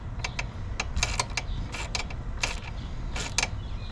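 Metallic ratcheting clicks from a socket wrench snugging a ground wire bolt onto the battery terminal of a CFMOTO CForce ATV, a quick series of short bursts close up with a low rumble underneath.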